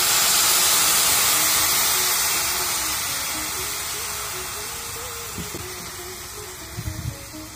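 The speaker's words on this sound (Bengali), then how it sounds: "তখন আমি এর ভিতরে উঠিয়ে রাখা সেই গরম দুধটাকে দিয়ে দিচ্ছি" Hot milk poured into vermicelli browning in a pan for sweet jorda semai sets off a loud, close hissing sizzle that slowly fades, with a few soft clinks near the end.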